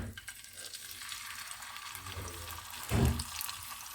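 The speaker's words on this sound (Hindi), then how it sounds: "अभी मैं इसको शैलो फ्राई कर रही हूँ, दोनों तरफ से लाइट ब्राउन करूँगी" Marinated, tender chicken shallow-fries in a pan with a soft, continuous sizzle and hiss, and a brief louder burst of spattering near the end.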